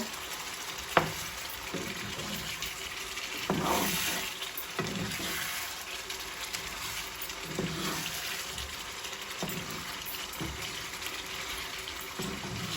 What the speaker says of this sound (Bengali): এখন মাংসের সাথে সব মশলাগুলো খুব ভালো করে মিক্সড করে দিব, দিয়ে আমি মাংসটা খুব ভালো করে কষায় নিব।